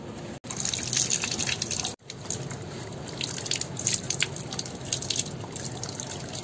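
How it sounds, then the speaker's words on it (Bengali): Water splashing and dripping while taro leaves are washed by hand, a close, continuous wet trickle with brief pauses. "কচু পাতাগুলো আমি ধুয়ে নিলাম"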